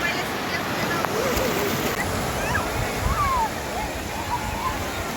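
Rushing sea surf and splashing water at Bakkhali beach fill the scene, with distant voices and wind noise mixed in.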